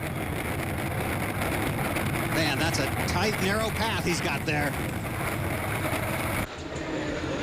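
Unlimited Hydroplane racing boats roar steadily through a final near the pins on San Diego Bay, a loud continuous engine drone throughout, with someone commentating over it.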